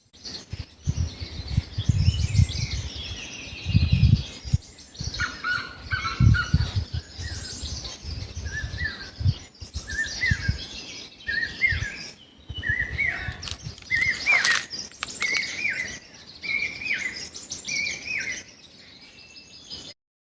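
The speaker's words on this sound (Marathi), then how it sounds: "माझ्या पाठीमागे तुम्हाला ना पक्ष्यांचे आवाज ऐकू येत असतील" Birds chirp and sing outdoors in a Konkan village, several calls overlapping at moderate distance, with a few low thumps early on and no speech.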